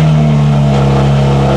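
A BMW M3 with carbon ceramic brakes and carbon bucket seats idles with a steady, loud, close engine drone inside a showroom, alone and without talk.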